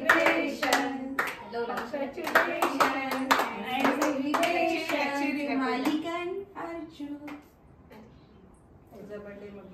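Friends clap together after a shawl is draped over a friend at a celebration, a burst of sharp hand claps over lively overlapping chatter and laughter that thins out toward the end.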